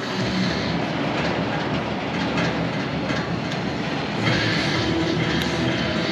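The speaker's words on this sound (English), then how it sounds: "And the train is still in the station." The Scorpion roller coaster train runs on its track at a Howl-O-Scream event, a loud, steady rumbling clatter of wheels on rails that swells slightly toward the end, with no voices.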